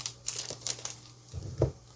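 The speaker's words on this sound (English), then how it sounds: "we'll go ahead and get them all packaged in our plastic bags" Plastic bags crinkle as homemade tie-dye stretch bracelets are packaged: a string of short, crisp rustles and crackles close by, ending in a louder crumple, with no voices.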